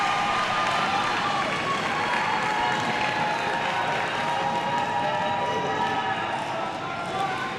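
A home crowd at a Bishop McLaughlin versus Santa Fe high school volleyball match claps and cheers steadily throughout, a dense, even wash of applause filling the gym at moderate loudness.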